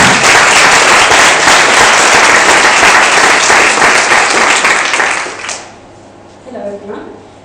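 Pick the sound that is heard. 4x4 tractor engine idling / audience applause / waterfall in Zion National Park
audience applause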